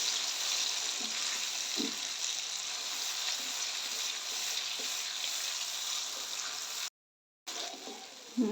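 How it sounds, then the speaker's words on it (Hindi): A paste of onion, tomato and green chilli fries in a pan for restaurant-style mixed vegetables, giving a steady close sizzle that runs on evenly and breaks off for a moment near the end. "प्याज, टमाटर और सब्ज़ मिर्ची का पेस्ट जो बनाया है वो डाल देंगे। इसको भी अच्छे से फ्राई करेंगे।"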